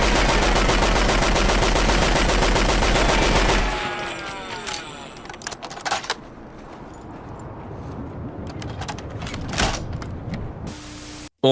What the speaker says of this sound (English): This is supposed to be a Lewis gun.